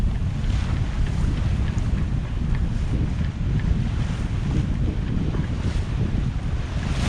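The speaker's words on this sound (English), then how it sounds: "It's rather windy." Steady, strong wind buffeting the microphone at sea off Land's End, a constant low roar with faint water and surf beneath, continuous and loud throughout.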